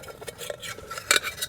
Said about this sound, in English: Got the old boundless forage kettle